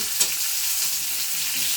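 Malabar spinach stems and potatoes fry in a pan, giving a steady, close sizzling hiss with a faint clink of stirring near the start.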